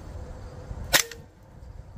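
A single sharp, close crack from an Invader Auto air rifle firing an H&N Slug HP pellet, standing out briefly against quiet background.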